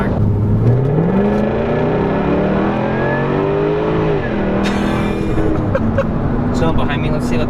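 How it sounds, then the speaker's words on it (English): Jaguar F-Type R AWD accelerating hard, its exhaust note rising and dropping through gear changes, loud and close from inside the car, with people talking over it. "I love the exhaust in this car."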